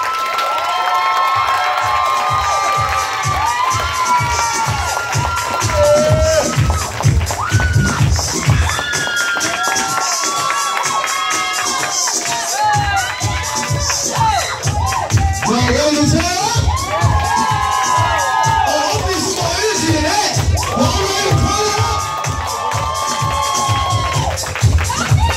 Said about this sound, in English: please clap your hands and welcome, I am a writer